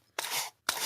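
Two crisp scissor snips through thick paper, each a short broadband crunch close by, separated by a brief pause, with no voices.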